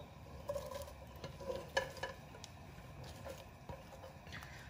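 Three medium chopped onions drop into a pot holding a cup of hot oil and fry with a faint, steady sizzle, broken by light stirring clinks and taps.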